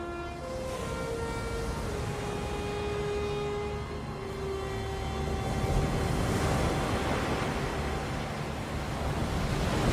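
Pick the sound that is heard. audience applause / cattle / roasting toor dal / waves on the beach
waves on the beach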